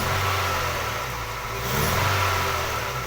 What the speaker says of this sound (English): I might just accelerate here without loading it and see what we get